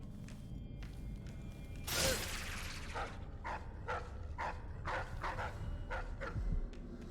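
Hounds barking in Dishonored 2, inside the Addermire basement, with a cluster of sharp, repeated barks and yips over a steady low game ambience, mid-distance and fairly loud in bursts.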